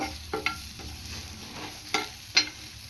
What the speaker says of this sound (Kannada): ಇದಿಷ್ಟನ್ನು ಡ್ರೈ ರೋಸ್ಟ್ ಮಾಡ್ಕೊತಾ ಇದ್ದಾಳೆ ಮತ್ತು ಸ್ವಲ್ಪ ಕಾಯಿ ತುರಿ ಇದನ್ನು ಕೂಡ ಹಾಕ್ಕೊಂಡು ಫ್ರೈ ಮಾಡ್ಕೋಬೇಕು